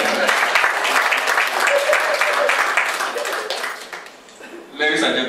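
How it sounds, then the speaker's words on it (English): Guests applaud for Ifeanyi at a dinner party held in honour of Barr Hyacinthy O Maduagwu, a dense round of clapping that carries on for about four seconds, dips briefly, then swells again with cheering and voices mixed in. "A round of applause for Ifeanyi."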